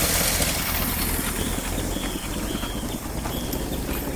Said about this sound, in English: The exhaust sounds awful.